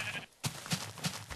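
Minecraft sheep bleat three short times in quick succession, fairly close and clear against quiet game ambience, with no talking over them.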